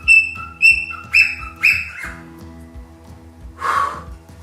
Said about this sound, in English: That bird really makes me go berserk.